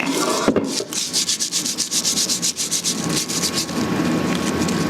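Close rhythmic rubbing of 100 grit sandpaper by hand on a car wheel from a Mercedes 380SL, a steady run of back-and-forth scratchy strokes with no talk.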